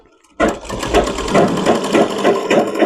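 Sewing machine running steadily as it stitches a seam in velvet fabric for a lined pant, with a sudden start followed by continuous close-up whirring and rhythmic needle clatter.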